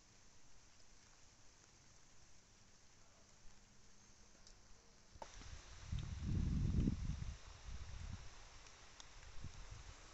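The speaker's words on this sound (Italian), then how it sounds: "Sta iniziando finalmente a piovigginare qui." Soft rain patter starts up over steady outdoor background noise, with a brief rustling burst in the middle before settling into a light, continuous sprinkle.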